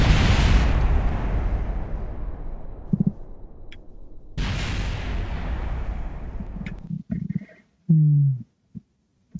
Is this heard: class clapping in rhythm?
no